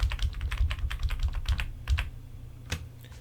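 Close, quick clicks of computer keyboard keys pressed in a short burst of copy and paste shortcuts, then a few scattered taps, with no voice.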